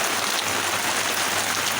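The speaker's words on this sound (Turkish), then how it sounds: "Yaz yağmuru bu. Diner geçer." Summer rain falls steadily in a continuous, even hiss that stays at a constant level throughout, with no talk over it.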